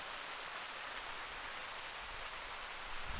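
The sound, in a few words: rain starting, downpour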